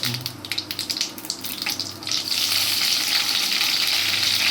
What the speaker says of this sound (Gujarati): રાઈ જીરું સરસ ગરમ થઈ જાય પછી તેની અંદર આપણે કઢીપત્તા નાખીશું